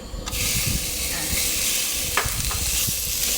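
Pork belly sizzles steadily in a hot pan without oil over medium heat, with occasional scraping and stirring clatters and a soft hiss throughout.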